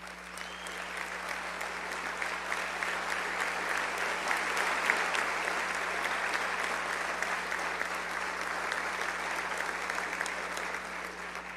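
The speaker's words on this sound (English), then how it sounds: "let's give the Broyles family that's in attendance a round of applause" An audience at a college football award ceremony gives a sustained round of applause, a dense, even wash of clapping that holds steady throughout over a faint electrical hum.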